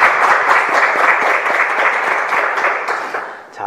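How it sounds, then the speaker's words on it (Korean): A dense, loud burst of audience applause at a public talk event with a city mayor, sustained for a few seconds before tapering off near the end. "가족들 대신해서 박수 한번 부탁드리겠습니다."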